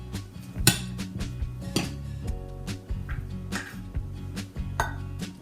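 Quinoa is measured out into meal prep containers, with scoop clinks and clatter of dishes and utensils in irregular knocks and taps, close and moderately loud, with one sharper clank early on.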